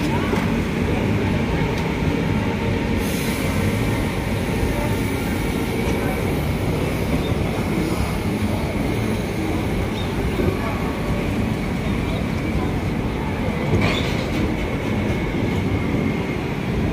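A Humsafar Express passenger train pulls out of an Indian railway station, its steady rumble and rail noise filling the scene continuously, with a person talking over it.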